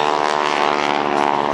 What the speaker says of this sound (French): biplan école américain de la fin des années 30, équipé de moteurs de 450 chevaux